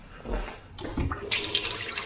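Water gushes from a tap in a small hut kitchen in the Scottish Highlands, a short burst of rushing flow that starts abruptly and continues steadily, close and fairly loud.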